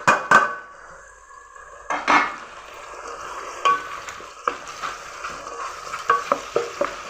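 Tomatoes and green chillies sautéing in a pan for Chittoor-style tomato rice, with a soft sizzle under repeated spoon scrapes and stirring taps against the pan, some louder, spaced irregularly throughout.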